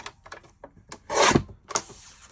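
A sheet of cardstock is sliced with a guillotine paper trimmer at 4.25 inches along its 8.5-inch side while making a card. One short, close, rasping cut stands out between faint handling rustles, with no voices.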